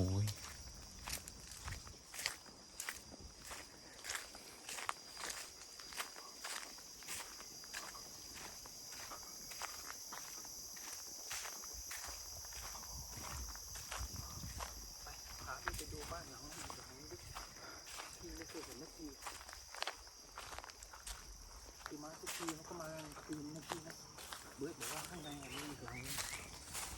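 Footsteps walk on a forest path around an abandoned house in rural Thailand, a steady run of crunching steps on ground and undergrowth that lasts throughout. Insects buzz constantly in the background and people talk quietly now and then.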